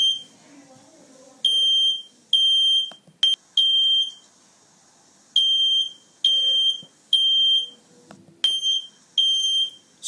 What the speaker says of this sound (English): alert us about the fire alarm sounds ringing in our home